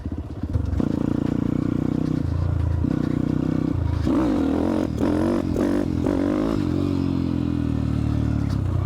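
A Zongshen 190 motorcycle engine runs loudly and steadily at close range, its idle shifting and revving partway through, with some clattering.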